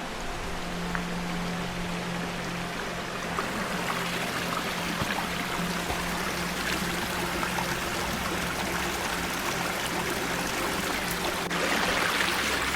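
A creek on the Beaver Lake Trail in Sitka, Alaska flows with a constant, soft rushing hiss, an even wash of running water heard alone at moderate distance for the whole stretch.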